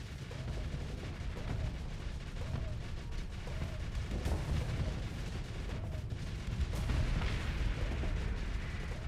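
Spaceship guns fire in the space combat game Starsector. A dense, continuous barrage of booming, rumbling shots and impacts keeps going at a steady level, with a few sharper cracks standing out.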